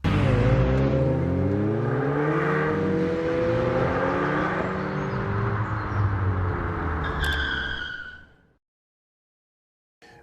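A 2021 Audi S3 Sportback hot hatchback drives hard, its engine note climbing through several gear changes at close range with a steady roar, then cutting abruptly to silence near the end.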